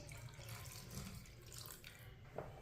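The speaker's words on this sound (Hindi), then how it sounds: "आधा गिलास पानी और डाल लेंगे।" Half a glass of water is poured into a pot of chicken, giving a short, faint, steady splashing stream that ends with a small clink.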